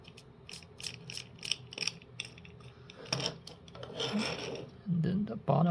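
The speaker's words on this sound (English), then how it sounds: "And again, make sure it's locked into position. And then you screw the two nuts in." Small nuts are screwed onto screws by hand while a robot chassis is put together, with close, rapid metallic clicks and ratcheting scrapes of tightening, rising into louder rubbing and knocking of parts near the end.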